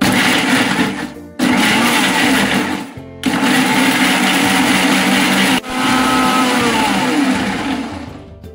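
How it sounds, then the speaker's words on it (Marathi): A kitchen mixer grinder whirs loudly as it grinds a thick Ratnagiri-style prawn curry masala paste with a little water, running in three long pulses separated by brief stops. "आपण हे आता वाटून घेऊया"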